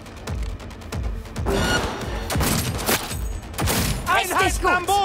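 Rapid bursts of automatic gunfire from the Cyberpunk 2077 Phantom Liberty expansion, loud and close, cracking in repeated volleys with short gaps between them, while a voice talks over the shooting.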